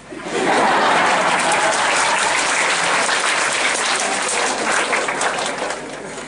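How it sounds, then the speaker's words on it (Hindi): Classroom audience applause during a session, a steady, loud, dense wash of many hands clapping that holds evenly for several seconds before easing off. "सबसे पहले हम तालियां इसलिए बजाएंगे कि उनको कुछ भी करके 5 सेंटेंस बोलती"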